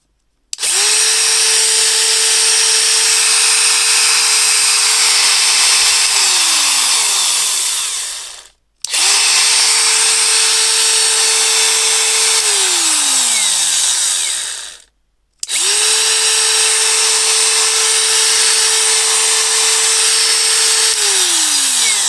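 A repaired DeWalt DCG412 angle grinder runs three times at close range. Each run is a loud, steady high whine that spins down to silence before the next start.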